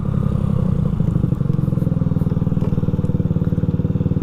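A Honda Ruckus 49cc scooter engine, tuned to reach about 50 mph, runs close by with a steady, rapid putter and rattle that changes slightly partway through, with no speech over it.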